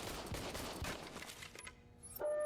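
Service weapon fire in RoboCop: Rogue City, a dense run of rapid shots over the first second and a half, then a brief lull before an electronic tone cuts in near the end.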